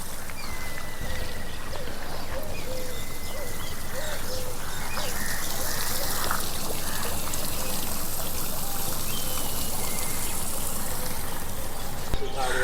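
Water trickles and burbles through the stone channels in the garden at Humayun's Tomb in Delhi, a continuous close gentle flow with birds chirping faintly around it.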